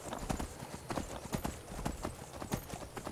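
Horse hooves gallop in Skyrim, a steady fast clip-clop of repeated thuds that is close and prominent, running throughout without any talk over it.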